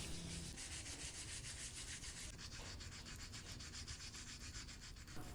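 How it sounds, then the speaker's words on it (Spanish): A sculpture made from sawdust dough is sanded with 400-grit sandpaper in circular strokes. It gives a steady, close, dry rubbing hiss that goes on without a break and has no voices over it. "voy a lijar la escultura con una lija número 400"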